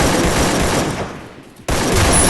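Gunfire in a shooting video game: dense, continuous rattling bursts that thin out briefly, cut off, then roar back at full loudness.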